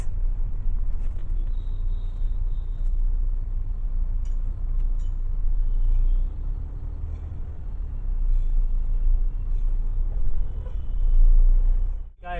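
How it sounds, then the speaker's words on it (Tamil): Heavy road traffic on Avinashi Road where bridge construction is unfinished: a continuous loud rumble of engines and passing vehicles, rising and falling, with a surge near the end. "செம்ம டிராஃபிக் गाइस."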